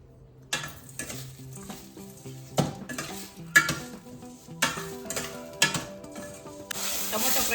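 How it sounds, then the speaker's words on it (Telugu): Tomatoes frying with a little salt for a spicy roti pachadi, soft sizzling under repeated clinks and scrapes of a spoon stirring in the pan. "టమోటా ఫ్రై చేసుకునేప్పుడు కొంచెం గల్లుపు వేసుకోవడం వల్ల తొందరగా ఫ్రై అవుతుందండి."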